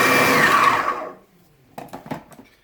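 A food processor grinds BBQ hash meat to a fine mush, roaring loud and steady for about a second before cutting off, followed by a few short clattering knocks of the bowl and blade.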